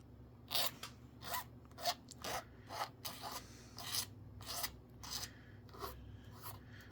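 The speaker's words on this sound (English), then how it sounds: "let's file off his sprue cut" Small hand file rasping away a sprue cut on a plastic model covered hopper part, a series of quick, crisp scraping strokes at an uneven rhythm, close and quiet, no talking.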